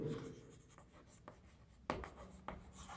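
Chalk or marker writing on a board during a nutrition cooking lecture, a series of faint scratchy strokes and taps, a couple of sharper hits near the end, quiet and close in an otherwise hushed room.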